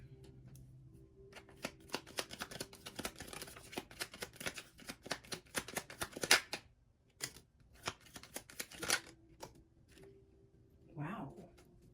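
Tarot cards being shuffled for a reading: dense bursts of crisp riffling and flicking over about ten seconds, close and moderately loud, pausing briefly before a final soft flutter, with no talking.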